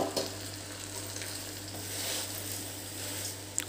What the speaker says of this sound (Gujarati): અને હવે એની અંદર આપણે આ પૌવા એડ કરી દઈશું.